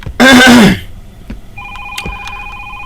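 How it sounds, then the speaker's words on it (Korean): An old-style telephone bell rings in a horror video game, with a sustained electronic ring starting partway through. It follows a loud throat clearing and sits at moderate volume. "전화를 받아야 하나 어 전화를 받아야 되지 않나"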